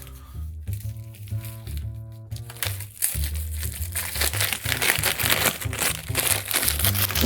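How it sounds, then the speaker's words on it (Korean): A plastic zipper bag crinkles and rustles close by as opened laptop thermal pads are packed into it, the crackling growing denser and louder over the second half above a background of music. "임시로 이 지퍼백에다 정리한 다음에"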